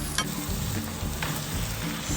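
Shrimp sautéing with onion and garlic in a pan, a close continuous sizzle with a few quick stirring scrapes.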